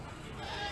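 Goats at a livestock market in Kalidawir, Java, bleat briefly amid the steady murmur and background noise of the busy market.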